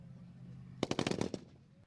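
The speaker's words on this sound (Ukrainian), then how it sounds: "Стріляють не лише з ручних кулеметів, а й з великокаліберного Браунінг" A short burst of machine gun fire at military paratrooper training, about seven rapid shots, rings out after a moment of low background hum. Moderately distant.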